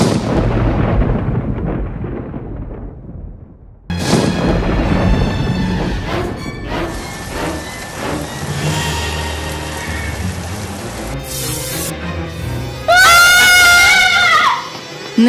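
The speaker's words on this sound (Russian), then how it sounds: "Сегодня ожидается сильный ливень и гроза." A heavy downpour and thunderstorm sound effect: steady, loud rain with rumbling thunder, mixed with tonal, music-like layers and sudden shifts in intensity partway through.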